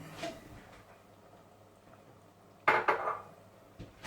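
A utensil scrapes and clanks against a metal cooking pot while rabbit plov is stirred with pepper, salt and turmeric, a soft scrape followed by a louder clatter near the end, close by and without speech.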